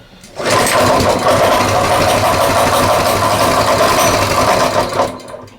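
A Coleman mini bike's small engine, previously locked up, catches and runs at a loud, steady buzzing idle for about five seconds before cutting off abruptly.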